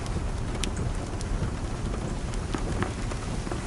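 Steady rain falling in Bastrop, Texas, near a dry forest and river road, a continuous close hiss with scattered drop taps, no voices.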